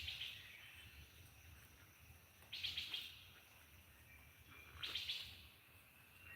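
A bird chirps outdoors on a farm in short, faint bursts of high twittering, with two clearer calls a couple of seconds apart against a quiet background hum.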